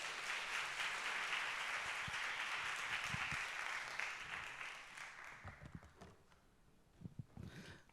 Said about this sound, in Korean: 하나님의 인도하심을 감사하는 박수와 함께 우리 전도사님 맞이하겠습니다